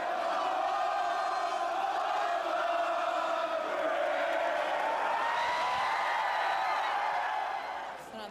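A crowd of rowdy students chants and shouts in the streets during a violent street disturbance, a sustained, dense roar of many voices that stays steady and loud before easing slightly at the end.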